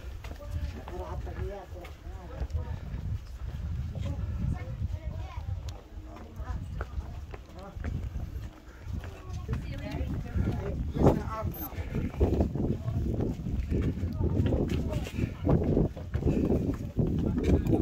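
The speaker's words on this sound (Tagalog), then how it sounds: "Ba't may kabayo dito?" Horse hooves clip-clop along a path at Petra, Jordan, a loose walking rhythm under constant chatter from nearby tourists.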